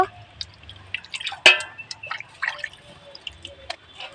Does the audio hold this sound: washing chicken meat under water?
yes